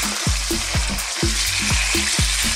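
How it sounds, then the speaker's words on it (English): Loud, steady sizzling of beef stir-frying in a hot pan, with repeated scraping and tossing strokes in a regular rhythm. "Now just stir frying"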